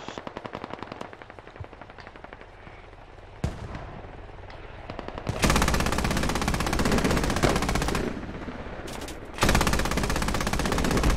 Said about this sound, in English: It'd be nice to shoot down air in an AA gun.